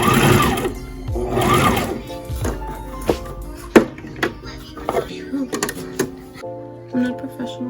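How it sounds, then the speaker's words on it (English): A new home sewing machine stitches a seam in short whirring runs, ending in a series of taps and clicks as the needle stops, with a person talking over parts of it. "I'm gonna sew to the end."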